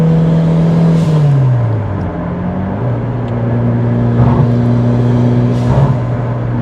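Mitsubishi Lancer Evolution 7 being driven, a steady engine drone from inside the car with a shift in pitch partway through, continuous and fairly loud, no voices.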